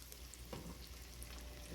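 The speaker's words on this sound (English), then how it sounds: "As soon as it's heated, I'll drop it down into the oil." Fish for a low-carb fish fry drops into oil heated to 180 °C, followed by a steady, faint sizzle of frying that holds evenly throughout.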